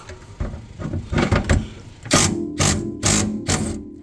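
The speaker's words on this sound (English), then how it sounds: "So he's going to use the impact socket" Impact wrench driving an impact socket to loosen a nut under a kitchen sink, heard as three loud, close bursts of rapid mechanical hammering, each about half a second long, following quieter clattering and handling noise.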